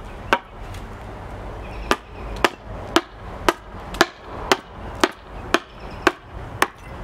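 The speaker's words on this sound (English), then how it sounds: "But if a double bevel hatchet is what you've got, it will still hew wood to get these bevels." A double bevel hatchet hewing and bevelling a wooden panel: about a dozen sharp, close chops in a steady rhythm, roughly two per second after an opening pause.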